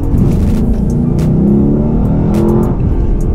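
A 2018 Lexus LC500's V8 exhaust revs hard and close, a loud, brassy roar that rises and swells for a few seconds with crackling edges, with no talking over it.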